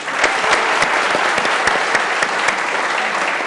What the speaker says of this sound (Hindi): ऑडियंस के लिए तालियां, बेहतरीन ऑडियंस थी